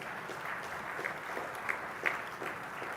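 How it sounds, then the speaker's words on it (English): An audience applauds at a groundbreaking ceremony for an Eaton manufacturing plant and headquarters in Sholinganallur: a steady, moderately distant round of clapping with no voices over it. "A big round of applause to the XLT team."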